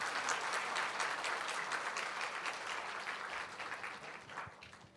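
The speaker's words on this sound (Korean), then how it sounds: "우리 렘트로에서 박수 한번 쳐줍시다." A church congregation applauds at a joint worship service, a steady wash of many hands clapping that gradually fades over a few seconds, with no voices over it.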